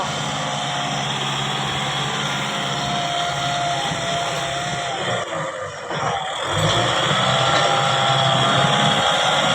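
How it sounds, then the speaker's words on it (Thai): A farm tractor's engine runs at work with a steady, loud, droning rumble that continues unbroken for nearly ten seconds, with a slight swell in the latter half. "พี่น้องรถไถเริ่มทำงานแล้ว"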